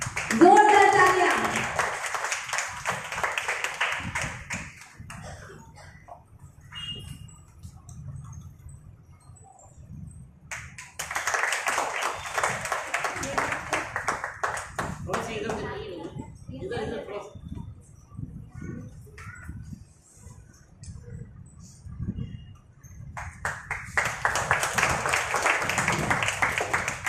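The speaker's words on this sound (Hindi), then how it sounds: "जोरदार तालियां प्लीज" Applause and clapping from an audience at an Islamic quiz competition as children receive their gifts, broad bursts of clapping that rise, fade and return in waves, with speech over the quieter gaps between them.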